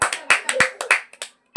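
Children clap their hands in a classroom quiz, a burst of uneven overlapping claps over about a second and a half, loud and close, trailing off then one final clap.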